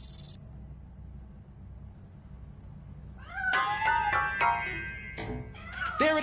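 A cat meows in the video game RoboCop Rogue City, a cluster of close, drawn-out mews and cries that rise after a low, quiet hum and repeat over the last few seconds.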